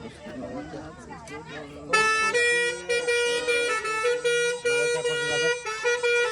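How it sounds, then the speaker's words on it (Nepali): A loud, tonal vehicle horn blares in long repeated blasts after a couple of seconds of background chatter and street noise. "कस्तो हर्न बजाएको"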